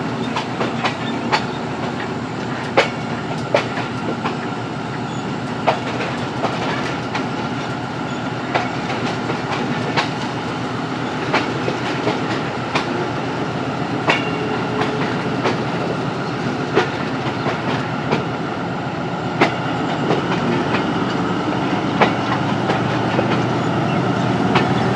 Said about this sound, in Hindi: नोशअप कर दिया है ड्राइवर साहब ने और उसी के साथ ट्रेन की रफ्तार भी बढ़ गई है।